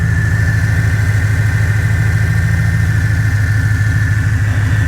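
Pontiac G8 GT V8 with long tube headers idling, a loud, steady, lumpy low rumble with an even pulsing throb and a faint whine on top, close by and uninterrupted throughout.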